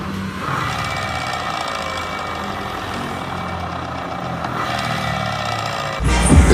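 A scooter engine runs steadily with a rough, rattling drive noise from a worn CVT clutch bearing, then a sharp louder clatter breaks in at the end.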